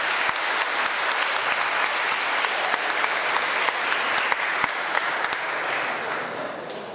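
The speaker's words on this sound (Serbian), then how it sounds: "Molim vas još jedan aplauz za tim iz Tadžikistana." A hall audience at a junior Balkan informatics olympiad award ceremony applauds the team from Tajikistan, sustained even clapping for several seconds that fades slightly at the end.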